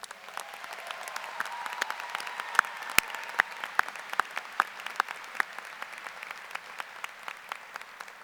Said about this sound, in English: Parents, guests, graduates, please join me in a round of applause for our talented and dedicated staff.